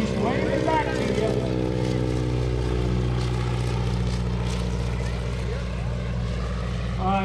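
A wingwalking propeller airplane makes a Superman pass at the 2016 Greenwood Lake Airshow, its engine droning loud and steady throughout while an announcer talks over it.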